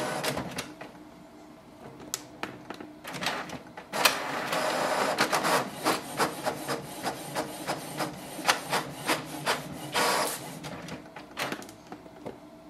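A Canon Pixma TR7620a inkjet printer prints a test page, with a whirring feed followed by a regular run of short mechanical clicks and thumps as the print head shuttles back and forth close by.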